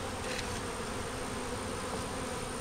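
Honey bees hum steadily at an open hive during an inspection, a dense, continuous buzz that stays even and close throughout with no voices.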